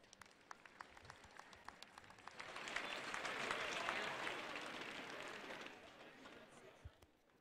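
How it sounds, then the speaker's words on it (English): Applause from a university basketball crowd, UBC Thunderbirds against Windsor Lancers, swells to a broad peak in the middle and fades, with scattered sharp claps and a distant voice over the arena noise. "Please give them a round of applause."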